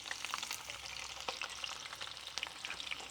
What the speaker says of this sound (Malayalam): അത് നമുക്ക് ഇതേപോലെ ഗോൾഡൻ കളർ വേവുന്നവരെ പൊരിച്ചെടുക്കാം